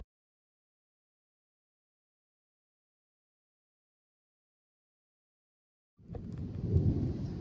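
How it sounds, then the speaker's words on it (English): Thunder from an approaching storm rolls in as a low rumble after several seconds of near silence, rising loud and growing toward the end. "the storm is upon us. It's lightning a little bit, getting ready to pour down rain."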